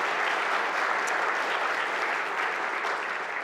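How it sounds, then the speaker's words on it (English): Audience at an Indigenous prosperity forum applauding, a dense steady wash of many hands clapping that holds evenly for a few seconds with no talk over it. "So give yourselves a round of applause"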